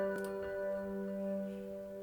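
Hybrid Keys synth chord with a step effect, back-and-forth panning and delay, sustained with rhythmic pulsing flickers over steady tones.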